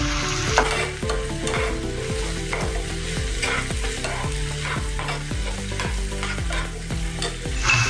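A rice-flour breakfast mixture fries in a pan as soy sauce is worked in, with a steady close sizzle and a regular rhythm of spatula scrapes and stirring strokes, no voices.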